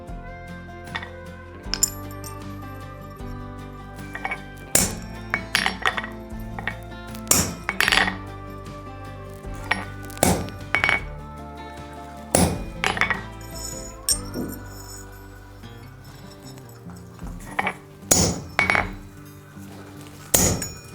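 Sharp metallic hammer blows strike a chisel into forged iron on an anvil while making an 18th-century trivet, ringing clanks in irregular bursts, close and loud, with no talking.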